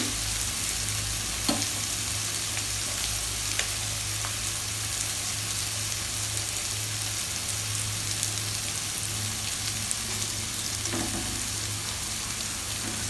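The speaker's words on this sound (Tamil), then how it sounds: "இப்போ கொஞ்சம் சிம்மில் ஒரு 2 நிமிஷம் வச்சு எடுத்துடலாம்." Chicken kofta simmers on low heat in a pan, giving a steady soft sizzle and bubbling that runs throughout with a few faint clinks, close and even, with no talking.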